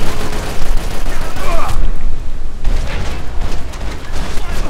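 Dense bursts of rapid gunfire in a Max Payne 3 shootout against police, loud and nearly continuous with a brief lull midway.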